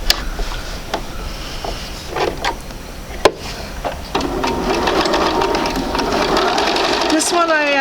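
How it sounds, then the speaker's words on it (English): A home sewing machine stitches together the center block of a basic sampler quilt, its steady mechanical whir building to a continuous run after a few brief starts and clicks, close and fairly loud, with a voice speaking over parts of it. "we'll go ahead and sew my center block."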